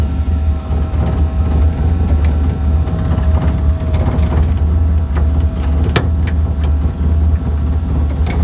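A car pulling away for a test drive after a day of mechanical repairs, with a loud, steady, low engine rumble heard from close up and a few scattered clunks and rattles over the drone.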